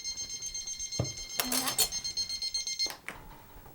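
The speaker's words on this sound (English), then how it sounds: "Most annoying timer." A kitchen timer beeps in repeated high electronic tones while lemon herb white fish cooks, with a person speaking over the beeping throughout.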